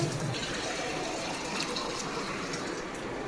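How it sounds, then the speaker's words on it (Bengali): Water poured into a pot of braised meat curry (kosha mangsho) makes a continuous close rushing and splashing sound that stays fairly even throughout. "এবার জল দেব"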